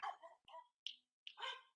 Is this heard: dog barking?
yes